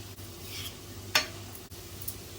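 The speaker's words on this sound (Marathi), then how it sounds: "पाच सहा मिनटं झालेले आहेत आपण कोबीची भाजी मिक्स करून घेऊया" Cabbage bhaji stirred in a pan that is kept covered between stirs: a single quiet scrape of a spoon mid-clip over a low, steady background hum.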